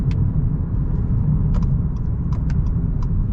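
A 2022 Jeep Compass Red Edition with a dual-clutch transmission pulls away in sport and manual mode, its engine a steady, loud low rumble heard from inside the cabin, with faint clicks over it.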